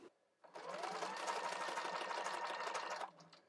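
A sewing machine topstitches microsuede fabric for a doll's leather-look jacket, running in one continuous fast, even whir for about two and a half seconds before stopping.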